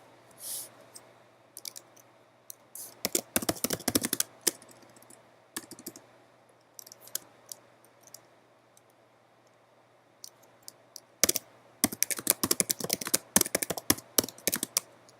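Typing on a computer keyboard, with bursts of rapid, close key clicks separated by quiet pauses and lone taps, the densest flurries coming in two main runs.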